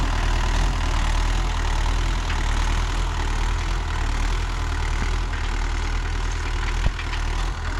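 A Mahindra Yuvo Tech Plus 585 4WD tractor working with a cultivator runs with a steady, loud diesel drone, a continuous close engine rumble with one small knock near the end.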